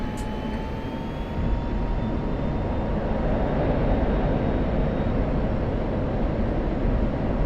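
An F-16 jet in the DCS flight simulator runs up its engine for a takeoff roll, a loud steady roar swelling after the first second and holding on, with no voices.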